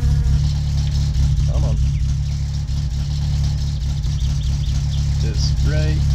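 The car engine in My Summer Car runs at a steady low idle, a loud continuous rumble with a deep drone, while someone talks over it.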